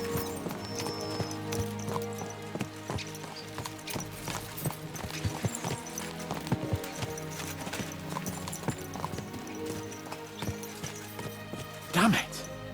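Horses gallop in the medieval role-playing game Kingdom Come: Deliverance, hooves drumming in a fast, steady clip-clop under game music, with a brief whinny near the end.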